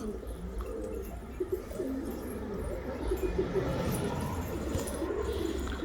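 A güllü pigeon coos among a loft flock, low murmuring coos close by under a steady background of other birds and ambient noise.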